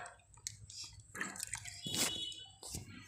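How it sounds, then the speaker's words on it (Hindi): A bicycle disc brake part dipped into water gives soft, close sloshing and dripping sounds, quiet, irregular and wet, with no talking. "फिर इसको पानी में डुबा दो"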